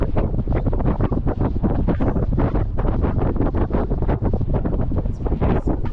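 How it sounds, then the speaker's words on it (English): Wind at 30 mph in a Honda wind tunnel makes a loud, steady, close roaring buffet with constant low rumble and gusty fluttering throughout. "This is what wind sounds like at 30 miles per hour."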